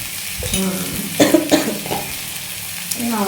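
Boiled banana peel being stirred in a pan, scraping and stirring sounds with a light sizzle from frying, a few louder clatters in the middle, a short stretch in all.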